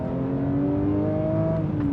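A Porsche 911 GT3 Touring pulls steadily along a short straight on a hill road in New Zealand, its engine a smooth, rising drone held at moderate revs without any break.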